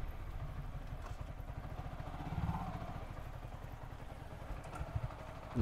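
Motorcycle engine in a very narrow lane, running at a low idle-like putter with a slight rise midway and some clatter, moderately close but fairly quiet overall.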